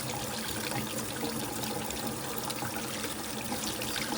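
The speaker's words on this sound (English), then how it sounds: "I wash each leaf individually, front and back, running my fingers over it" Steady running water from a tap pours and trickles continuously while baby bok choy leaves are washed one by one, a close, even broadband rush with no pauses or voices.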